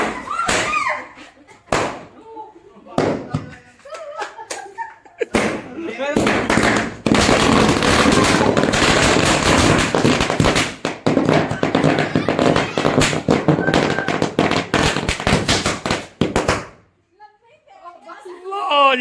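Firecrackers burst during the burning of a Ravan effigy, a dense run of sharp cracks and pops that builds into a loud sustained crackle before fading, with people talking before and after.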